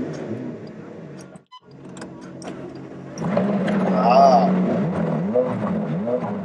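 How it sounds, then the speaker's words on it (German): A McLaren 570S sports car engine fires up and settles into a running idle, a low rumbling hum rising after a brief start, heard up close inside the car as people talk over it. "Motor an."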